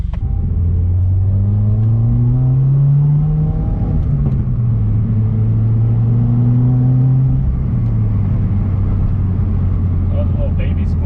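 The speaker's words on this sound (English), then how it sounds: "we're gonna take the WRX for a quick little drive and get some stock intake clips so you can hear the sound" Subaru WRX with a stock intake revving and pulling through gears on a drive, a loud close engine drone rising and falling in pitch with shifts, continuous throughout.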